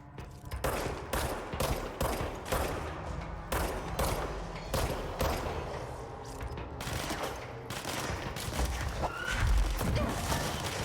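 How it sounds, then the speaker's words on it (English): Gunfire in the video game Control, a steady run of loud, close shots spaced irregularly over about ten seconds, some in quick clusters, with game ambience underneath and no speech. "How did all but one of those shots miss?"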